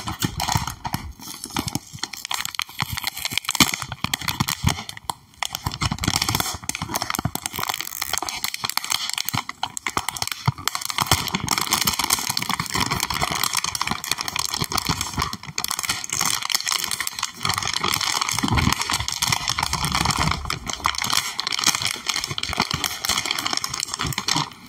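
A Nintendo Splatoon bag unwrapped from its packaging, close crinkling and rustling of plastic with tapping handling sounds, continuous and fairly soft, no talking.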